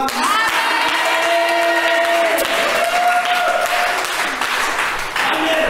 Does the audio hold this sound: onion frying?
no